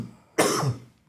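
A single sharp cough bursts out close by and loud, its harsh rasp trailing off over about half a second, amid a casual gathering of friends smoking during a rolling competition.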